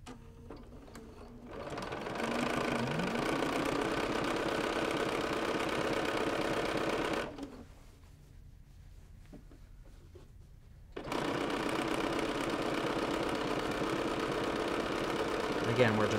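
A sewing machine fitted with a stitch-in-the-ditch foot machine-binds a quilt, running in two long steady stretches of rapid stitching separated by a pause of several seconds; quiet talk sits under the motor.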